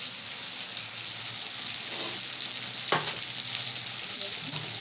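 Shredded cabbage frying in a hot pan, a continuous loud sizzle with a sharp scrape of stirring near the middle and softer stirring scrapes around it, no talk.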